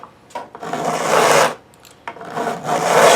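A metal file rasps across guitar frets during fret leveling, in long steady strokes separated by short pauses. Close, dry and scratchy, with no talking.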